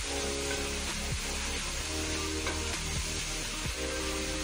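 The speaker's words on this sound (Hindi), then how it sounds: "इसको फ्राई करेंगे जब तक सही फ्राई हो जाएगी" Ginger-garlic paste fries with chicken in a hot pan, giving a steady, loud sizzle, with occasional soft stirring scrapes throughout.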